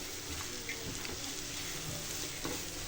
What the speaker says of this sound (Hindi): ये देखें अब मुसलसल चम्मच चलाते जाएं इसके अंदर, ताकि हमारा जो हलवा है वो नीचे ना लगे